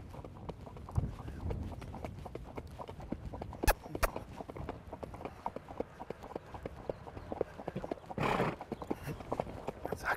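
An Aegidienberger horse moves at a gait, its hooves beating a steady, rapid rhythm of close footfalls on the ground, with a louder scuffing burst near the end.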